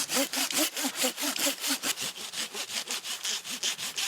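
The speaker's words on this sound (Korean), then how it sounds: "자식같이 아끼는 나무를 글쎄 왜 베어내는 걸까요?" A hand saw rasps rhythmically through a young cypress tree in a forest, steady back-and-forth strokes close by, with a bright gritty edge on each pass.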